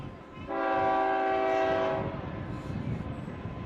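Train horn blowing in the distance behind a baseball game, one sustained tonal blast of about a second and a half over the rumble of rail cars passing.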